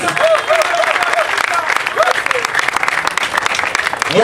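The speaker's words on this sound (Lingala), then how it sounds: "Acclamez pour l'armée congolaise." Loud, dense applause from a large crowd cheering for the Congolese army at a rally, continuous clapping with scattered shouts and voices mixed in throughout.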